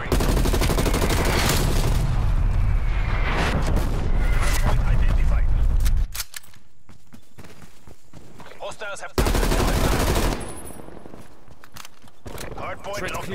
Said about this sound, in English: Artillery targeting detected. Net call. Incoming artillery.